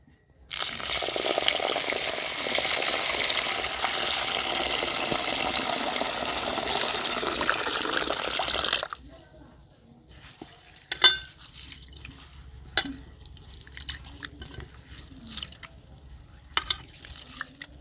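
Lentils (urad dal) washed by hand in water: a long steady rush of running water for about nine seconds, then quieter, irregular sloshing and splashing as the dal is rubbed and rinsed.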